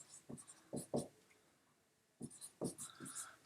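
Marker writing on a board during a maths lesson on completing the square, two bursts of quick strokes separated by a quiet pause.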